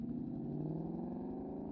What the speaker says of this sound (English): these Coyote engine Mustangs are some of the best sounding cars currently being made